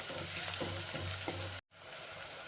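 Onions frying in a pan for pav bhaji give a steady, close sizzle with a few faint stirring scrapes, cut by a brief dropout near the end.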